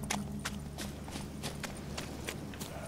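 Horse hooves clip-clop in an even, steady rhythm over a constant low hum in The Witcher 3: Wild Hunt, moderately loud and close, with no talking.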